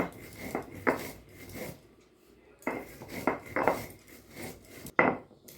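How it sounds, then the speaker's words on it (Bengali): Roasted cumin seeds ground dry against a pan, heard as repeated gritty rubbing strokes and metallic scrapes in rhythmic bursts, close and fairly loud, broken by a brief pause before the grinding resumes. "এখন আমি এই জিরেটা বেটে নেব। জল দেব না, আমি শুকনো খোলায় বেটে নেব।"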